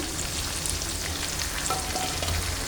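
Sweet-sour spicy mango pickle cooking in a pan as it is stirred, a dense, even bubbling sizzle with faint scraping underneath, close and continuous, no voices.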